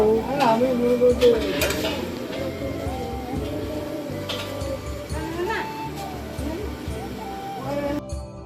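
Khichuri cooks in a large pot at a home Manasa puja, with irregular scraping and clanking of a ladle against the pot and a soft sizzle, while people talk and chatter throughout.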